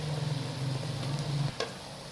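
Whole coriander seeds sizzle in a pan of onions frying for urad dal, a soft steady hiss with a low hum that drops away, then a brief scrape of stirring.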